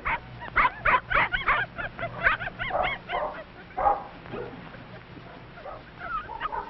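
Several small puppies yip and bark in quick, excited bursts, close by, with short pauses between the outbursts, playing on a beach.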